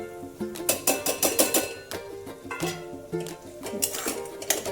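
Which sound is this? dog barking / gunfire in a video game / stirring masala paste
stirring masala paste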